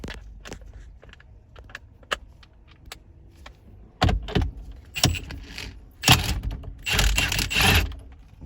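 Wrench work on a 22mm bolt in a 2011 Kia Sorento, with a quiet stretch of faint clicks giving way to sharp metallic clanks, rattles and ratcheting scrapes close by near the end.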